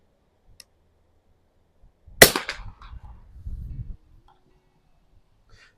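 A single gunshot from a Russian TOZ-12 target rifle: one sharp crack followed by a short, fading low echo, with quiet surroundings before and after.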